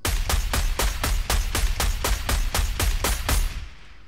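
Automatic sniper rifle firing in Fortnite, about fourteen sharp, evenly spaced shots in a rapid steady rhythm, loud and close, with a short echoing tail after the last one.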